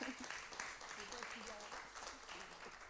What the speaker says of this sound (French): C'est très gentil d'applaudir